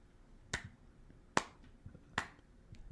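A slow clap from one person, three sharp, spaced claps about a second apart, fairly faint against quiet room tone.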